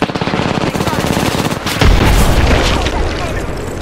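Rapid automatic gunfire rattles throughout a firefight in the battle royale game Apex Legends, then a frag grenade goes off with a heavy, loud boom that sustains under continued shooting.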